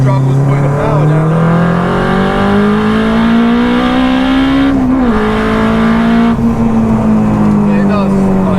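Turbocharged Honda Civic Type R EP3 accelerating hard, engine note climbing steadily under boost, dipping briefly around a shift before rising again, loud and close from inside the car.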